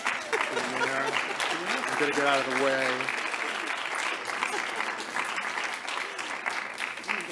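Audience applause at a national conference awards ceremony, sustained and moderately loud, with someone talking over it early on before the clapping carries on alone.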